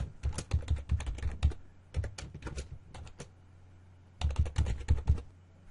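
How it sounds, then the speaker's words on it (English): Three bursts of rapid keystrokes on a computer keyboard as a user's password is entered, close and clear with short pauses between the runs and no talking. "we're going to type in the user's password"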